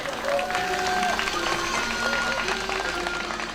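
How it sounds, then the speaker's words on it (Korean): A crowd claps loudly and steadily as South Korean athletes enter an event arena, the applause continuous and dense for a few seconds beneath an announcer's voice. "힘찬 박수로 맞이해주세요."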